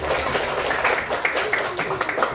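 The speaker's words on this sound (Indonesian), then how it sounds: "Oke, tepuk tangan dulu untuk kita." Third-grade schoolchildren clap together in a primary school classroom, a brief burst of scattered claps mixed with children's voices and chatter.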